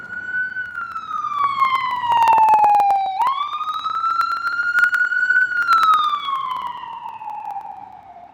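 A loud wailing police siren sweeps slowly down and up in pitch inside a New York City tunnel in the rain, close by and continuous, with faint clicks and rumble beneath it.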